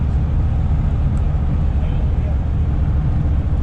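A cammed GMC Sierra pickup's engine roars steadily and loudly under hard acceleration, a dense, continuous drone with no pauses, heard from close by.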